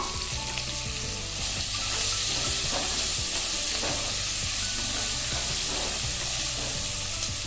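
Sliced onions fry in a pan with a loud, continuous sizzle and crackle, broken by occasional spatula stirs and scrapes, with no talking.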